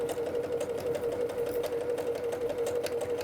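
A sewing machine stitches patchwork fabric, a steady close mechanical hum with a fast, even needle clatter running continuously throughout.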